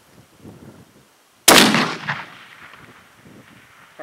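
A single sharp, loud rifle shot fired at a mule deer buck at about 711 yards cracks out after a quiet pause and rolls into a long fading echo, with faint murmurs before it.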